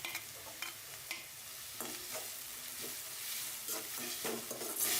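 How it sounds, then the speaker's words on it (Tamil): Green chillies sautéed in oil for samosa filling give a continuous bright sizzle, with intermittent spatula stirs scraping the pan every second or so, close and alone without talk. "பச்சை மிளகாய் சேர்த்து வதக்கிக்கலாம்"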